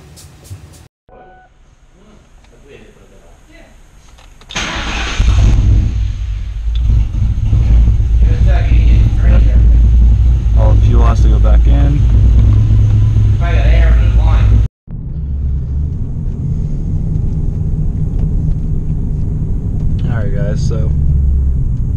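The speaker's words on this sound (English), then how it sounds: "Got the car running good." A 1999–2004 Mustang GT engine fitted with 24 lb injectors starts, catches with a loud jump in level, and keeps running with a steady rumble; a brief cut interrupts it, then the idle continues.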